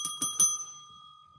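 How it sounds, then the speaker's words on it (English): Three quick metallic bell strikes ring out in a row, close and bright, each leaving a clear, sustained tone that fades slowly into quiet, like a stock market opening bell. "The bell is ringing right now."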